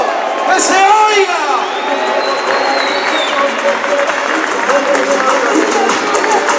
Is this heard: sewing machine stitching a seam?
no